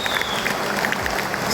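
Applause from an audience at a Go Green Foundation felicitation event in Raybag, a steady dense patter of many hands clapping throughout, fairly loud, with no speech over it.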